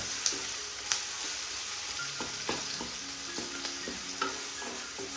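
Onions frying in a pan, a steady sizzle under repeated scraping and clinking strokes of a spoon stirring them, close and fairly quiet.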